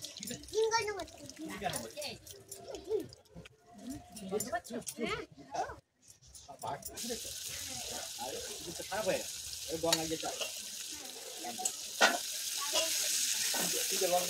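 Biryani frying and being stirred in a pot makes a steady close sizzle with scraping stir noises, and people talk over it at times.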